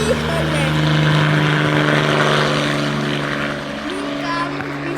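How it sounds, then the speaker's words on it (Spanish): A crop-spraying helicopter drones overhead with a steady, loud rotor and engine hum that fades slightly toward the end, with voices talking over it. "nunca hemos visto un helicóptero así"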